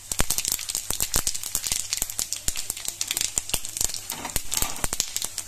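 Panch phoron seeds crackling and sizzling in hot oil with a bay leaf and a dried red chilli, cooked for a vegetarian lau shak dish; a dense, continuous spitting sizzle with sharp pops, close and steady throughout.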